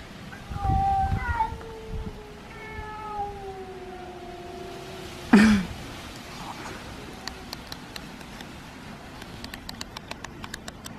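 Cats in a garden standoff, drawn-out wavering meows and yowls rising and falling, then a sharp loud outburst midway, followed by quieter ambient patter.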